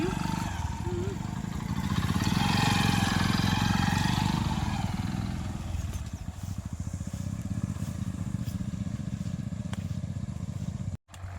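Motorcycle engine revving on a bad road, a loud, close, rough roar that surges early and then settles into a steady idle before cutting out abruptly near the end.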